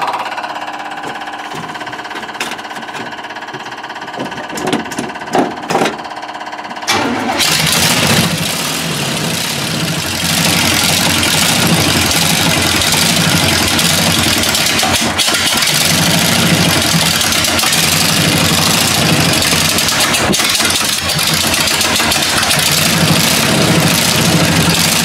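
A Buick Electra engine cranks with a few sputtering attempts, catches around seven seconds, then settles into a loud, steady, close idle that holds to the end, with no voices.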